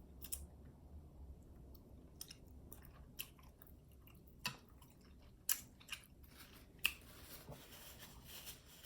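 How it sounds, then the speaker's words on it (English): Quiet, close chewing of a bite of vegan Lightlife bratwurst sausage dipped in tomato sauce, soft wet squishes with scattered sharper clicks and bites over a faint background hum. "I'm going to start eating it while it's hot"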